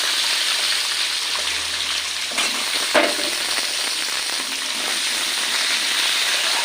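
Potatoes frying in hot oil for a fish curry give a steady, even sizzle close by, with a couple of brief clatters partway through and no voices.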